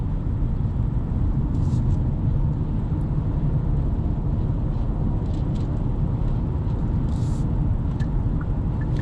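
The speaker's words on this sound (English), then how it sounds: "it is pretty noisy, especially once you start going over 45 miles per hour" Steady low road rumble and tire drone fill the cabin of a 2026 Kia K4 EX sedan cruising on the interstate, a constant loud hum with faint higher hiss and no talking.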